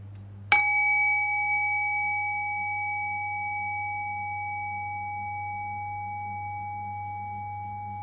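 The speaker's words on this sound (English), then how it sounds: "Rest your thinking mind on the sound of the bell" A single meditation bell strikes once, sharp and clear, then its bright ringing tone sustains and fades slowly for several seconds over a quiet low hum.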